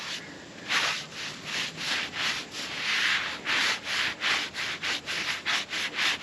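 A saw cuts down through a big oak log near where a large branch joined it. Each stroke gives a rasping sound, repeating at an even rhythm about a dozen times, close and fairly loud with no talking.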